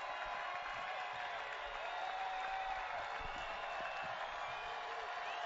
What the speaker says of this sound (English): The crowd comes to life here.